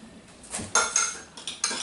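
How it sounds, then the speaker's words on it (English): Cutlery scrapes and clinks against a bowl as garlic is stirred into an asparagus salad, with several distinct bright scraping strokes close by and no talk. "Stir this up."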